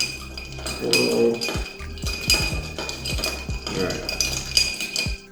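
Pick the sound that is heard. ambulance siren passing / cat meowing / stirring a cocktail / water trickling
stirring a cocktail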